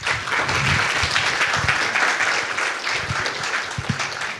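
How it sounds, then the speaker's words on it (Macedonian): Sustained audience applause at a university book promotion ceremony, a dense, even wash of many hands clapping throughout, with a few louder individual claps standing out near the end. "Еден аплауз за двајцата."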